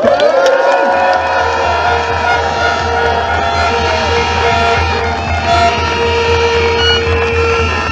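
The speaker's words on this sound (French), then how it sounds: "On va vous applaudir." A crowd at a political rally in Mulhouse applauds and cheers, loud and continuous, a dense wall of clapping with a sustained tone running through it.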